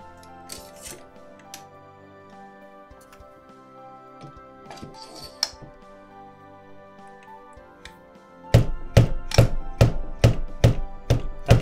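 A Roland electronic drum hi-hat pad fitted with a damping washer is struck in a quick, steady series of dull, muted thuds, close by, after a stretch of quiet background tones.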